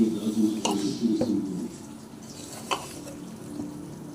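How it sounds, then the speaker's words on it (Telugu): Tamarind pulp is stirred into green chilli pickle, giving a few sharp scraping clicks and wet squelches of a utensil moving through the thick mixture, with soft gaps between them. "మొత్తం మిక్స్ అయ్యేలాగా మొత్తం కలుపుకోండి."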